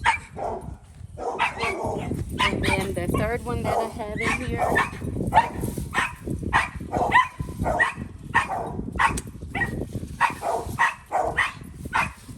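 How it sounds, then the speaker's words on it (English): Several dogs bark and yip repeatedly close by, loud and overlapping, while a person talks over the noise. "Please excuse the dogs."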